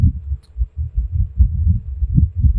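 Heartbeat from someone's chest, heard up close as a steady, loud, low thumping throb with a regular double-beat rhythm running alone throughout.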